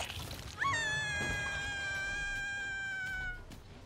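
A cat gives one long, drawn-out meow that rises and then holds steady for nearly three seconds, clear and close over a low background murmur.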